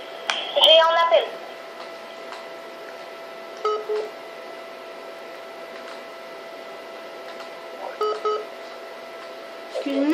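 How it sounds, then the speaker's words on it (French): Short electronic phone beeps from GTA 5 Online recur in small bursts every few seconds over a steady faint hum, with a voice briefly heard among them. "Excusez-nous pour les bip bip."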